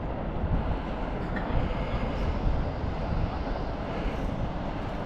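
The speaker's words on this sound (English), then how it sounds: "Complete with train." A train rolling along the tracks below Edinburgh Castle, heard from high above as a steady, continuous broadband rumble that swells slightly midway, with no talk.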